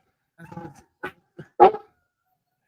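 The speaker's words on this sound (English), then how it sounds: "The barking's so loud it cuts off your mic." A dog barks a few times in short, loud, close bursts with brief gaps between them, some sounding like yips or whimpers.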